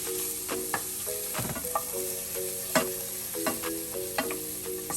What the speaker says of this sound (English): Okay, so you're hearing it sizzle right now.